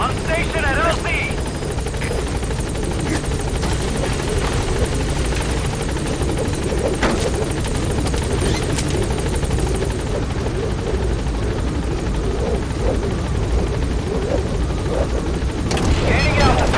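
Military helicopter arriving at a landing zone in Metal Gear Solid 5, a loud continuous rotor roar and engine drone throughout, with gunfire bursts and a voice talking over it.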